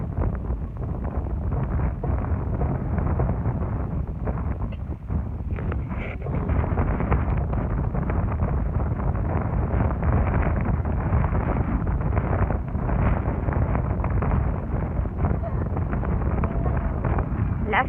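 Strong wind blows outdoors on a family outing in open countryside, buffeting the microphone with a continuous loud roar and rumble that never lets up.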